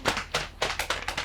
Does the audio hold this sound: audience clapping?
yes